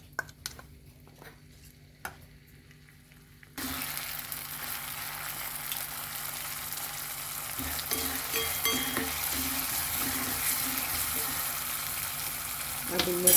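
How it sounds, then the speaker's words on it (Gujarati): After a few quiet seconds with light clicks, ginger and chili paste drops into about four spoons of hot oil and bursts into a steady, close sizzle that keeps frying with occasional stirring. "આદુ મરચાંની પેસ્ટ તળાઈ જાય"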